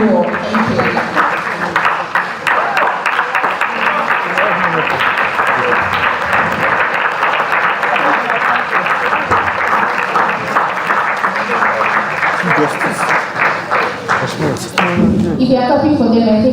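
A seated audience claps for panelists on stage in a sustained, dense burst of applause that stays loud and steady before cutting off near the end, when a few voices and a brief noise follow.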